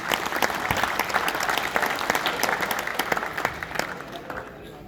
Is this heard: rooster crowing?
no